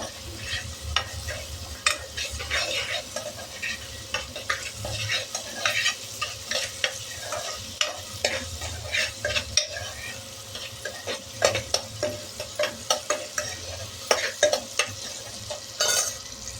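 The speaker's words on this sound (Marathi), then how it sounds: "थोडा टमाटा शिजू द्यायचा आहे, मऊ होऊ द्यायचा आहे। आपण परतून घेऊ तोपर्यंत।" Tomatoes sauté in hot oil in a pan for a drumstick amti, giving a steady sizzle while a spoon stirs and scrapes with frequent close clinks throughout.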